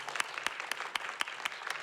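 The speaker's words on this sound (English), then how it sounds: "let's have another round of applause for these artists" Scattered applause from a small library audience at an artists' story-share, sharp individual claps at an uneven, sparse rhythm, fairly close and alone for under two seconds.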